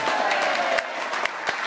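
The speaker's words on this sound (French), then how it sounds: "on va les applaudir, mais rien qu'une fois" An outdoor crowd at a summer gathering at a château in the Aude claps for the volunteers, a dense, loud, steady applause with a few sharper individual claps standing out.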